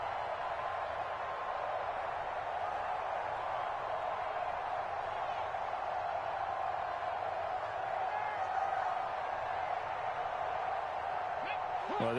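Steady roar of a stadium crowd at an NFL game between the Lions and Falcons, a dense continuous wash of massed voices and noise holding level throughout, with no clear single voice standing out.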